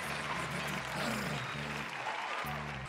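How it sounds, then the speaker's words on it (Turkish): Steady applause fills the hall at a professional wrestling show in Istanbul, dense clapping throughout with a voice speaking over it. "Bir kez de alkışlarla tebrik ediyoruz beyefendiyi."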